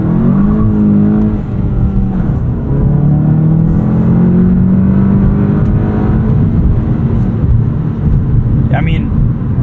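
A 2025 Volkswagen Jetta GLI with a manual gearbox pulls hard in second gear, its engine note rising steadily and loud from inside the cabin, with a faint click near the end.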